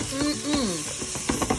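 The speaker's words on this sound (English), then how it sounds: "If you listen, you can hear the onions and garlic sizzling." Onions and garlic sizzle and crackle in a hot pan while being browned for potato soup, a steady close frying hiss with stirring clatter and brief spits, a voice talking over part of it.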